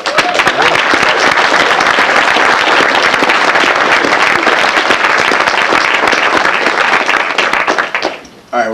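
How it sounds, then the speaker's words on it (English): A dense, loud wave of applause from a packed audience at a fan event, sustained steadily for about eight seconds with scattered voices mixed in before it cuts off abruptly. "so give yourself a round of applause"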